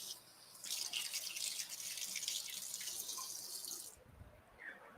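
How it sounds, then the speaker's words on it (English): A kitchen faucet runs while cherry tomatoes are rinsed under it, giving a steady, close hiss of running water that stops abruptly near the end, followed by faint handling sounds. "I need to rinse them first."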